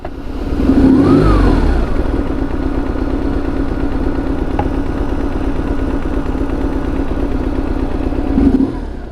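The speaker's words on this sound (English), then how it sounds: "there's a whirring from the fuel pump" A BMW R850R motorcycle runs with a steady mechanical whirr from its fuel pump under a loud, even engine drone that holds for the whole stretch, with a brief rising swell near the start.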